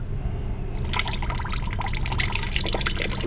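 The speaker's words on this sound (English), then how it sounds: "I'm trying to get the water out without losing the gold" Water from a gold recovery wash is poured off from a stock pot, starting after a brief pause as a bright splashing, trickling stream that runs steadily, close and fairly loud.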